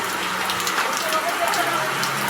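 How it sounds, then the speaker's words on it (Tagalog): Heavy rain pours steadily during a flood, a dense continuous hiss of drops on surfaces with faint voices murmuring underneath. "Umuulan pa rin."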